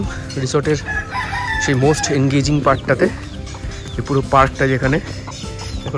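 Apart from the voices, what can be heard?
desi rooster crowing at a resort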